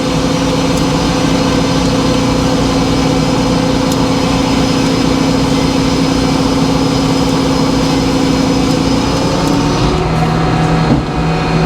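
A sawmill makes a 2-inch cut through a heavy spruce log, giving a loud, steady mechanical drone with a strong low hum throughout that shifts and eases near the end.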